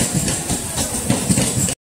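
A train arriving at a station rumbles steadily with low mechanical noise and faint rhythmic clatter, fairly loud and close, ending abruptly in silence.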